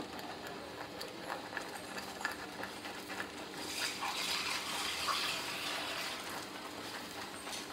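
Water splashes and pours into a pot, swelling louder midway, amid small metallic clinks and rattles.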